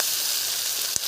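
Onions and whole spices (cardamom, cloves, cinnamon, black pepper) sizzle steadily in hot oil for a village-style desi chicken curry, a continuous bright hiss with one brief pop near the end.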